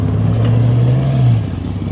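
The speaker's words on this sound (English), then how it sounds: "There's a Performante rolling out." A Lamborghini Performante sports car rolls out nearby, its engine giving a loud, low drone that rises briefly, heard over general outdoor car event noise with no talking.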